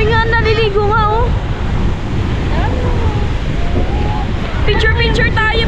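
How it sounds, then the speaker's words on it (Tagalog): Sea waves wash at a port in a continuous loud surging rush with wind buffeting the microphone, while people's voices call out over it at the start and end. "Grabe alon"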